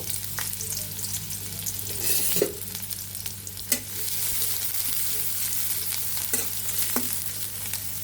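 Chopped onion and garlic fry in a little white oil in a kadai, a steady close sizzle with occasional stirring scrapes and clicks, no talking.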